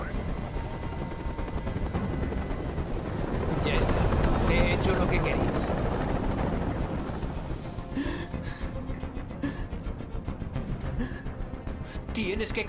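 A hovering helicopter in the video game Detroit: Become Human drones loudly and steadily with rotor rumble, swelling midway, under tense shouted voices.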